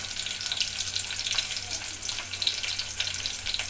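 Onion, tomato, green chilli, ginger-garlic paste and spices frying in a pan, a steady crackling sizzle with soft stirring underneath, no talk.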